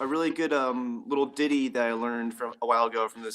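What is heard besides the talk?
None of the usual background noises is heard.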